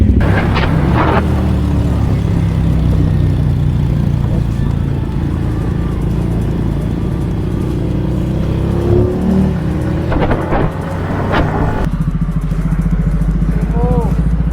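Several motorcycles ride past on a road, loud engines droning and revving up close as they go by, with people talking over the noise.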